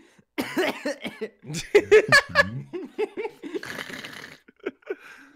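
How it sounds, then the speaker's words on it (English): A sharp cough breaks out amid giggling and laughter, with a voice chattering around it. "well-timed cough."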